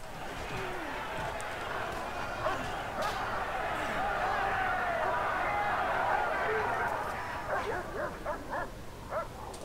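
Dog barking and yipping in the Prison Architect video game, busy repeated barks layered over game noise and constant overlapping talk, with a burst of sharper yelps near the end.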